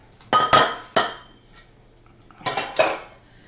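Metal cake pans are handled and set down, giving two clusters of sharp clanks and rattles with a short pause between them, close by in a quiet kitchen.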